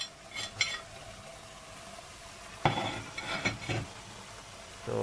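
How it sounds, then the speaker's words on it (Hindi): Chicken liver sizzling in a pan with kasuri methi and salt, stirred now and then, a soft steady fry punctuated by a burst of scraping and clattering stirs near the end; no talking. "तो अब नाज़रीन हम इसको 5 मिनट के लिए ऐसे ही भूनेंगे"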